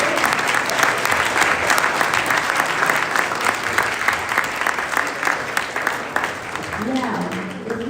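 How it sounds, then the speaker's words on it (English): Sustained applause from an audience at a dental school opening ceremony, honoring the residents; steady dense clapping fills the whole stretch, with a voice briefly rising near the end. "Let's give a round of applause to all of our residents."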